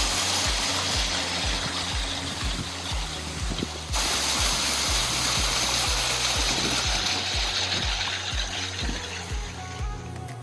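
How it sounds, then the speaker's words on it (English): A small roadside waterfall in Algonquin Park, a steady broadband rush of falling water running close and loud throughout, with a regular low mechanical ticking underneath. "pulled off to the side of the road to see a mini waterfall"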